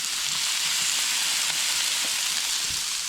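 Meat searing on a griddle, a close, even hiss of frying fat that holds steady throughout with faint crackles.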